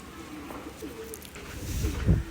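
Imported Madrasi pigeons coo nearby in low, soft murmurs that swell into a louder, deeper coo at the end.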